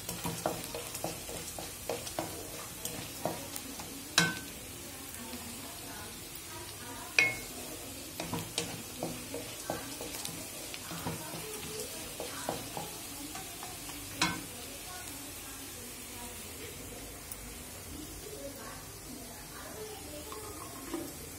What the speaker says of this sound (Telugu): ఇలా చూడండి ఎలా వేగుతుందో